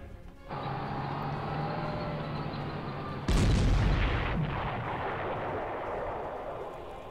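Artillery fire in the Panzer Corps strategy game: a steady mechanical rumble, then one loud, sudden blast that decays into a long rolling roar. It sounds close and heavy, with no voices.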